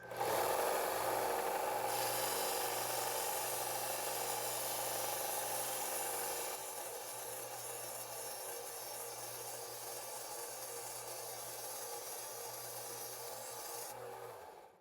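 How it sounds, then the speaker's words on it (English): A small Harbor Freight sander grinds a taper onto the end of a bolt, giving a steady, close rasping whine that drops in level partway through and then holds until it stops. "So now I'm going to use this little sander over here, this little Harbor Freight sander."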